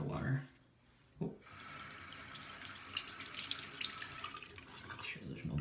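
Water runs steadily onto a Thuringian sharpening hone, splashing and trickling continuously for several seconds after a brief bump and pause.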